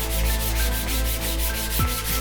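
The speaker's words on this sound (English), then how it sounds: "I just kind of sand it down with this like 400 grit." Close, steady back-and-forth rasping of 400 grit sandpaper smoothing a rough maple baseball bat in a bat-making shop, the strokes repeating evenly and continuously with no voices.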